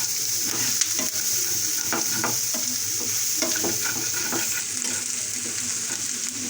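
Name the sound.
chillies frying in oil in a pan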